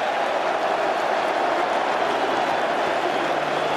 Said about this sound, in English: What a reaction in the crowd.